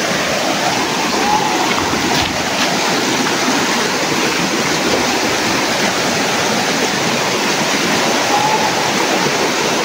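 Loud, constant roar of a river with a strong current, rushing water close by with no pauses, heard outdoors along a riverside path.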